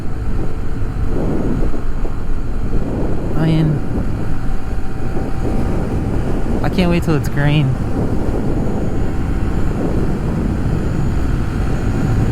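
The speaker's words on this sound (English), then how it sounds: "It's pretty windy up here." Strong, steady wind roars and buffets against the microphone throughout a Honda Trail CT125 motorcycle ride on Bent Creek Gap Road and the Blue Ridge Parkway, loud and continuous under a rider's brief speech.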